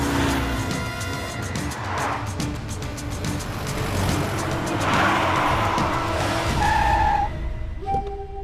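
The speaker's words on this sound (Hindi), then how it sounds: "बीच रास्ते में गाड़ी क्यों रोक दी तूने?" A car on a road brakes hard in the middle of the way, with tires screeching over a loud engine, the squeal rising and then cutting off as it halts.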